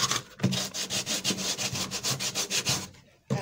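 A leather shoe sole is roughened with quick, even back-and-forth rasping strokes, about a dozen rhythmic scrapes close up, then a brief pause and one more stroke.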